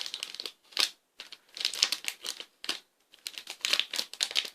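Crinkly paper or wrapping being torn and crumpled off a prettily wrapped gift package, in several bursts of rustling with short pauses between, fairly close and with no talking.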